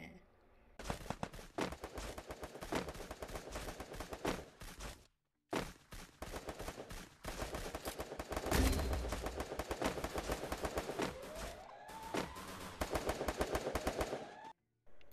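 Gunfire in the Free Fire mobile game played on a Redmi Note 10 phone: rapid automatic bursts, loud and close, broken by a few short silent gaps.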